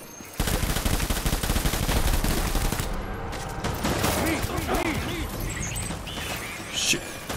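Shotgun blasts and rapid gunfire in the video game Death Stranding, loud and dense for the first few seconds, then continuing more sparsely with crashes and other game sounds.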